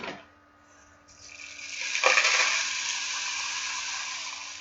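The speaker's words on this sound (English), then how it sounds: "I'm going to use a funnel, and I'm going to pour some rice through there" Dry rice pours through a funnel into a rainstick tube in a steady rushing hiss that swells after a brief quiet start and continues as a dense, rain-like patter.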